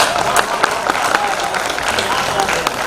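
Audience at a seaside poetry event in Porbandar applauding after a recital, a steady wash of clapping from a crowd with a voice talking over it.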